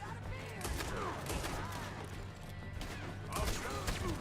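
Gunfire in Red Dead Redemption 2, a dense, continuous barrage of shots and clattering impacts that fills the whole stretch with a steady, loud wash of noise.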